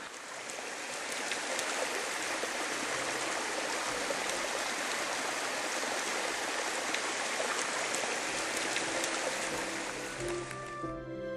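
Wibong Falls, a waterfall about 60 m tall in Jeollabuk-do running with modest flow, pours in a steady, dense broadband rush that stays constant throughout with no voices.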